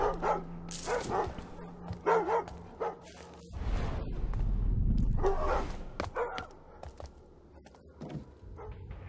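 Dogs in the stealth video game Thief barking in repeated sharp bursts, several yelps close together, then a rumbling stretch of game noise and more barks, with no talk.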